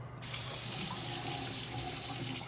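A tap runs cold water into a sink, a steady close rushing stream that starts abruptly and continues unbroken.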